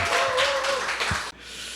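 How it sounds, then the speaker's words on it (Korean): A church congregation at a Sunday worship service claps in encouragement: a dense, steady wash of applause with a sustained musical tone underneath, cutting off abruptly near the end. "우리 다시 한번 우리 박수로 격려했으면 좋겠습니다."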